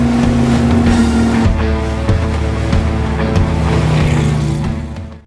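Motorboat ride in an action film, a steady loud engine drone with a rising and shifting tone and splashing hull noise running throughout, fading at the very end.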